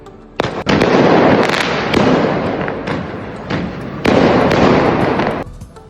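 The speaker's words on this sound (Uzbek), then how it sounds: "yotoqxona derazasidan ko'chada salyutlar otilishini tomosha qilib" Fireworks bursting outside a hostel at night, a rapid volley of loud booms and crackling pops that swell and fade in two waves, heard alone without speech.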